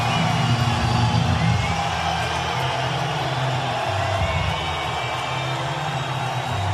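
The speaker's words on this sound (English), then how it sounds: "listen to this crowd" An arena crowd cheers and whoops for fighter Nick Diaz of Stockton at an MMA event, a dense roar that stays loud and continuous throughout.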